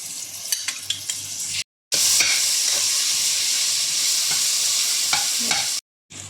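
Onions with ginger-garlic paste sizzle loudly in a pan for a mutton masala, with a steady close hiss and crackle interrupted by brief gaps and a few stirring taps at the start.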